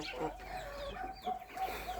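Young poultry, chicks, turkey poults and ducklings, in a freshly cleaned farm enclosure give short clucking and peeping calls in a quick, uneven series close by.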